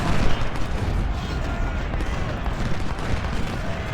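Dense, continuous crackle of skirmishers' musket fire rolls on without a break in the Civil War strategy game Ultimate General: Civil War, a distant massed volley texture with no voices.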